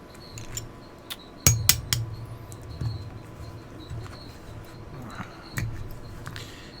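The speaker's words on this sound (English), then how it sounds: "The extractor, there's a pin. We're going to drive it down from the top." A pin is driven out of the extractor in the slide of a CZ 83 pistol: a few sharp metallic taps and clinks close up over a quiet background, with faint handling noise between the strikes.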